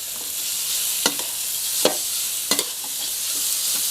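Pork belly stir-fries over raised heat in a pan, giving a constant bright sizzle broken by several sharp spatula scrapes and clacks at irregular intervals, close and without any voices.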